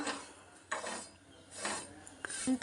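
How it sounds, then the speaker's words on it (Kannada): Sugar and milk powder being stirred in a pan for milk barfi over a wood-fired stove, with several separate scraping strokes of a utensil against the pan and light clinks, quiet and close. "ಶುಗರು ಮತ್ತು ಮಿಲ್ಕ್ ಪೌಡರನ್ನು ಎಲ್ಲದನ್ನು ಸೇರಿಸಿ ಚೆನ್ನಾಗಿ ತಿರುಗಿಸ್ಕೊಳ್ತಾ"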